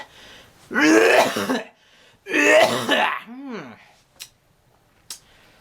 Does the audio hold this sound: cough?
yes